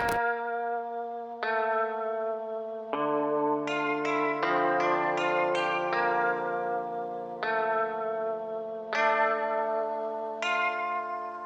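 A plucked, guitar-like melody of single ringing notes steps up and back down, each note echoing and lingering in a wide, reverberant space.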